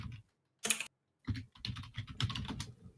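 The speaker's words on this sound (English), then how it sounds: "That's me typing." Rapid clicking on a computer keyboard, close to the mic, in uneven bursts of keystrokes separated by short pauses, with no voices over it.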